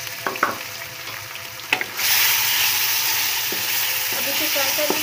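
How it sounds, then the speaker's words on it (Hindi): Meat frying in a wok with ginger garlic paste, a few sharp clinks and light sizzles at first, then a loud steady hiss that swells as the meat goes into the hot oil and keeps sizzling to the end. "अब इसे फ्राई कर लेंगे"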